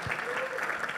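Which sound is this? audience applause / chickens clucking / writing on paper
audience applause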